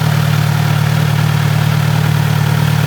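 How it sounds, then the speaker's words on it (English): A Kawasaki Z900 RS motorcycle engine idles steadily at close range, a constant low rumble with a faint tick and no revving, running alone without speech. "I don't rev her, I just let her run."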